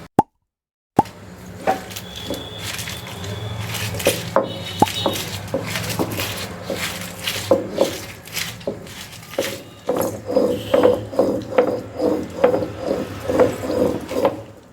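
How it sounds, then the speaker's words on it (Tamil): Chili, tamarind and salt ground on a traditional ammi grinding stone: repeated close stone-on-stone knocks and scrapes in an irregular rhythm, growing into steady regular strokes toward the end, with no talking. "இப்போது அம்மியில் மிளகாய், புளி, உப்பு எல்லாத்தையும் சேர்த்துக்கிறோம். இப்போ சேர்த்து அரைச்சி எடுத்துகிட்டு வந்துடலாம்."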